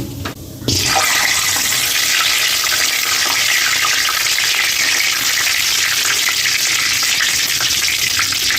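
Cumin seeds and a spoonful of sugar frying in hot oil, a loud, steady, broadband sizzle that bursts in after a brief quieter moment and holds constant throughout with no talking.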